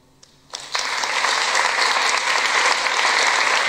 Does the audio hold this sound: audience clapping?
yes